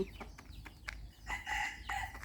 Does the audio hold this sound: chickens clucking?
yes